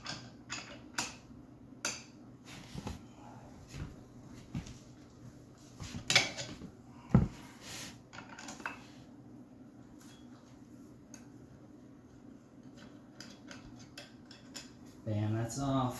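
A metal hex wrench works on a loose bearing cartridge in a Peloton bike's bottom bracket, giving a string of sharp metallic clicks, taps and ratcheting clinks that are close and fairly quiet, with a faint voice in the background.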